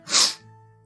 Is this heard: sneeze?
yes